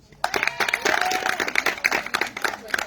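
An audience claps at a ceremony, a dense burst of applause that starts sharply and keeps going steadily, fairly loud and close, with a voice briefly audible over it.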